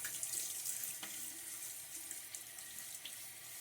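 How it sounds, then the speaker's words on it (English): Water splashing and trickling at a bathroom sink as a man rinses his face while shaving, a steady close hiss of running tap water throughout with small splashes, no talking. "as I splashed my face here with a little bit of water"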